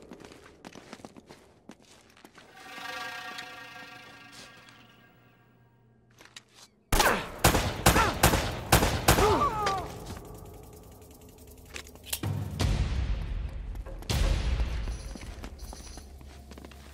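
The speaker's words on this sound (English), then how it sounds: "They're shooting at you too" Gunfire in the PS4 release of Uncharted: Drake's Fortune comes as a cluster of sharp, rapid shots mixed with mechanical clatter and footsteps, set against quieter game ambience.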